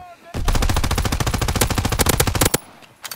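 Sustained rapid automatic gunfire from a World War II era machine gun in the video game Call of Duty WWII, a loud continuous burst lasting about two seconds before stopping abruptly.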